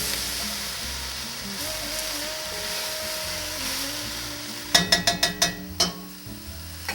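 Cabbage and carrots frying in a pan for Tuscan peasant soup, a steady close sizzle with stirring, then a quick run of sharp scraping or tapping strikes near the end.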